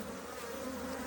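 Honey bees buzzing at a hive during queen introduction, a dense, steady drone of many bees, close and continuous for about a second with no talk.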